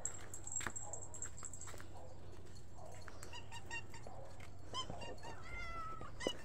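Hungry house cats call out with several short, scattered meows over a quiet indoor background, with brief clinks and knocks between them and faint talk nearby.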